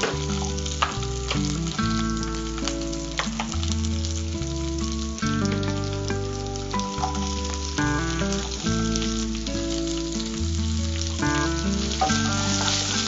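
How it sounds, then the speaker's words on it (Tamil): Half large and half small onions frying in a pan, a steady crackling sizzle heard under loud background music throughout, with no speech. "பாதி பெரிய வெங்காயமும் பாதி சின்ன வெங்காயமும் போடுறேன்."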